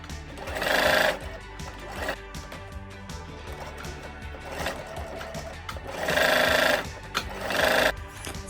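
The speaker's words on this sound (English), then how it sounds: "So let's start attaching it now and sew it." A sewing machine stitches kids' pants in loud bursts of fast, rattling needle action, with quieter pauses between runs.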